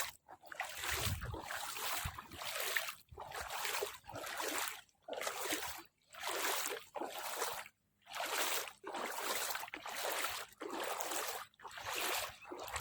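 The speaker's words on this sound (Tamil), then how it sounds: "தண்ணிக்குள்ள போயிட்டுருக்கிறேன்." Feet wade through water in a small stream, producing a regular rhythm of splashing sloshes with brief pauses between strides, close but fairly quiet.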